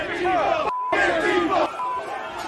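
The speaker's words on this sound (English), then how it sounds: "the crowd of economically anxious insurrectionists advanced on the" A crowd of Trump-supporting insurrectionists shouts and roars as it advances on the Capitol during a protest, with loud, overlapping chanting voices in short surging bursts that drop out briefly.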